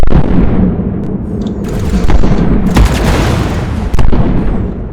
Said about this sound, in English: These explosions.